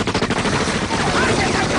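Sustained machine gun fire from the video game Far Cry 5, a loud, rapid stream of closely spaced shots, briefly mixed with a voice.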